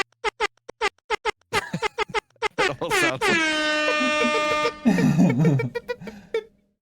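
Short sharp air horn blasts in rapid bursts, then a long loud sustained blare that cuts off, followed by a few more choppy honks.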